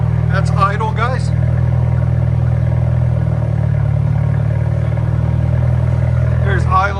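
A 2021 BMW M430i with a 2.0L turbo engine and straight pipes idles with a deep, steady, loud low rumble that stays constant throughout, while someone talks briefly near the start and again at the end.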